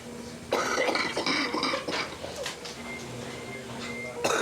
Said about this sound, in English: See, that's the cough. Yeah. And it sounds really bad.